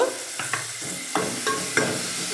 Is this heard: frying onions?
yes